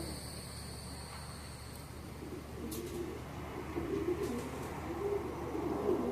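Pigeon cooing outdoors, faint low coos repeating softly over a quiet background hiss with a few brief higher chirps, no talk.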